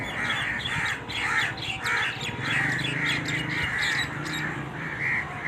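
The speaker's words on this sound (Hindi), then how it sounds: "अब उसके कौवे आ गए हैं, वो लड़ रहे हैं उनके साथ।" Crows fighting squawk and caw harshly over and over in a loud, overlapping clamour, with quick repeated calls close by and no talking.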